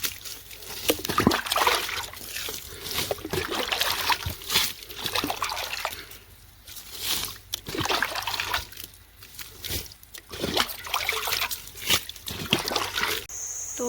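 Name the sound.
water being poured from a pot onto a field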